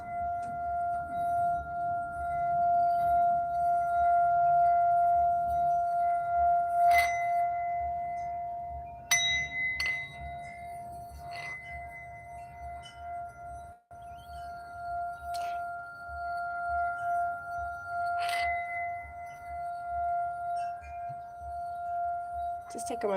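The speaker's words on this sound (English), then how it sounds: "Also use some sound bowls." Sound bowls ring with a long, steady sustained tone and occasional brighter metallic strikes, heard under a calm speaking voice throughout.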